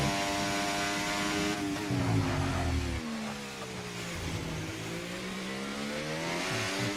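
Race car engine in a racing video game on a hot lap at the China round, loud and continuous, revving through gear changes with rising and falling pitch, alone with no talk.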